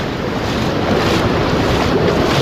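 A clear river flows outdoors at a fishing spot, a loud, continuous broadband rush with wind buffeting the microphone and no voices.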